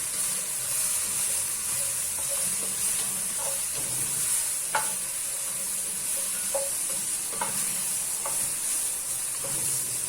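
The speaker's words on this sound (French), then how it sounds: "Pour faire caraméliser un petit peu mes légumes." Vegetables sizzle and caramelize in a hot pan, a steady frying hiss with occasional stirring scrapes and small pops, close and continuous with no talk.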